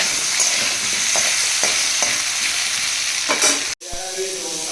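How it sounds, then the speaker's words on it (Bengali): Pointed gourd sizzles steadily in oil in a home kitchen pan, a continuous close frying hiss with occasional stirring scrapes and a brief cut near the end. "এখানে পটলটা ভাজা হচ্ছে।"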